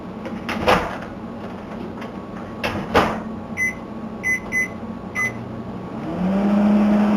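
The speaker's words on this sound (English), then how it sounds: "put the natto in the microwave for about 1 minute" A steady low microwave hum starts up near the end after a few clunks and clicks, with short electronic beeps sounding in between, as natto heats.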